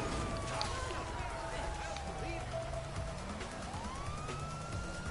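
In a GTA V free-roam online session on PS4, a police car siren wails and sweeps up and down at moderate distance, with game noise and players talking over it throughout.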